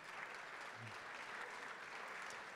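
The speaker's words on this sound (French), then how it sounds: "On peut vous applaudir." Guests at an industry awards ceremony applaud, a continuous even rattle of many hands heard quietly from a distance, without talk over it.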